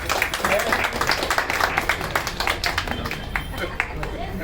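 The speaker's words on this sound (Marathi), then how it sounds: "एकदा टाळ्या होऊ दे जोरदार." An audience at a family gathering celebrating a baby claps in a dense, continuous burst of applause, mixed with voices talking over it.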